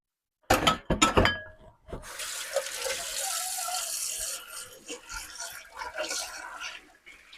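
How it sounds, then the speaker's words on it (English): Water splashes and patters into a bowl after a few sharp clinks at the start, with a continuous wet spattering that rises and falls for several seconds. "I'm just trying to get the water go off my hand into this bowl that's farther away."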